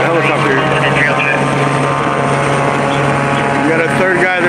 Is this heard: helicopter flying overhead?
yes